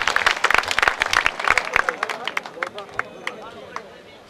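An audience at a Pirganj Govt. High School reunion in 2013 breaks into applause, with sharp, dense clapping that thins and fades over a few seconds.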